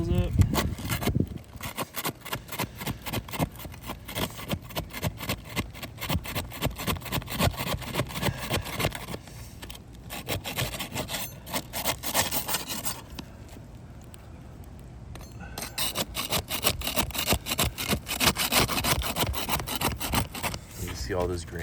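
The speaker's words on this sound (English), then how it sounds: "Go ahead and keep prying these shingles up." Roof shingles being pried up with a tool, giving a steady run of close scraping, rubbing and cracking sounds with brief pauses, while granules come loose; no one speaks.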